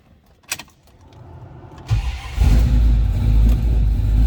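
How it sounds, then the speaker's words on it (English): A 1973 Dodge Dart two-door hardtop starts up after a brief click and a cranking whir, then settles into a loud, steady, close engine rumble. "All right, let's go ahead and fire this up."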